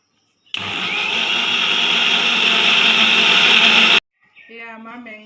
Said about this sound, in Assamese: এইখিনি এতিয়া মিক্সাৰ বনাই ল'ম।